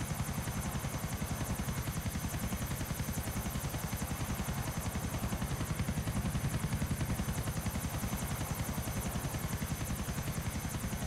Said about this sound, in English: And because we're in the helicopter, cops can't bother us if they planned on doing that.